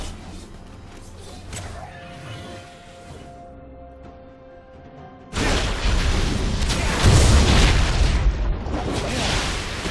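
Turret destruction explosion in League of Legends, a sudden heavy crash and rumbling blast cutting in after quieter game tones, then a sustained loud roaring tail of debris and effects.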